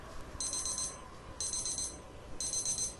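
Game buzzer sounding three times, evenly spaced short electronic tones that are bright and clear over a quiet background, with no voices.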